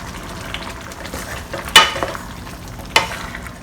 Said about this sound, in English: I'm going to add in 2 tablespoons of dark soy sauce